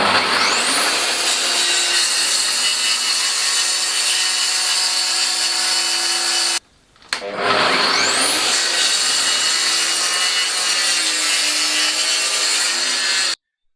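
A track saw with a worn blade rips through melamine-faced chipboard in two long, loud continuous cuts separated by a brief pause, the whining blade and rasping chip noise dominating.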